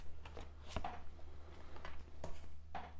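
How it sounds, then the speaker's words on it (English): A cat flap swings as a cat named Valentine tests it, making a few sharp, faint clicks spaced a second or more apart in a quiet room. "She's going to test out the cat flap for ages, so you'll just hear a clicking noise"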